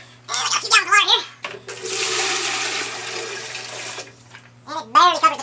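A few gallons of water pour and rush steadily into an electric quench tank for several seconds, loud and close, with someone talking before and after the pour.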